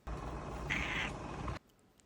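An elderly house cat lets out a short, low grumbling vocalization close by, lasting about a second and a half before cutting to near silence.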